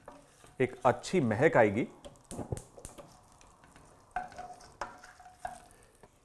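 Melon seeds and orange peel fried in ghee are stirred, giving a soft sizzle with scraping strokes; a voice talks over the first part, then quieter stirring and a few clinks follow.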